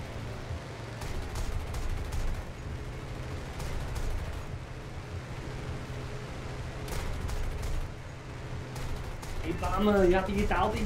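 Rapid gunfire in War Thunder, with repeated sharp bursts crackling through steady engine rumble across the whole clip; a voice breaks in near the end.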